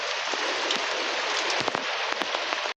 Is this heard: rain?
yes